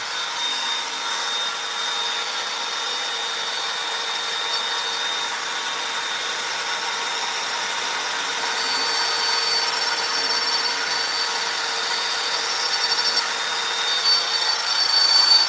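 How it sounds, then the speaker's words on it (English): A CNC milling machine cutting a tool-path test after milling heat sinks from plate: a steady high whine and hiss with thin tonal lines, holding constant and swelling slightly toward the end, with no speech. "And now I'm just doing some different kind of tool path testing."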